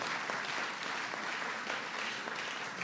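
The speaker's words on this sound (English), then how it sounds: "I thank you for applauding my words" A crowd applauds at a political speech by the New York governor, a broad, even wash of clapping that holds steady at moderate loudness from start to finish.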